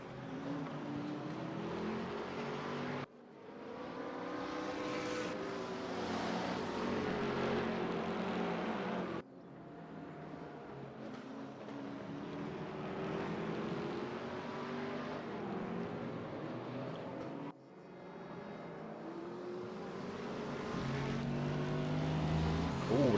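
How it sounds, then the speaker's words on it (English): Race car engine in a GT racing video game at the Portimao circuit, a loud, continuous high-revving drone that drops sharply at gear shifts or lifts roughly three times, then climbs again. "Ooh, listen to that engine."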